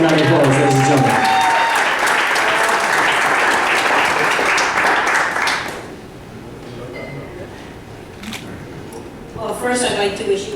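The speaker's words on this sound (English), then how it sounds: "Please give her a warm round of applause, ladies and gentlemen." Party guests at a surprise 60th birthday celebration give a loud burst of applause with some cheering, which fades after about six seconds into quieter room noise and scattered voices.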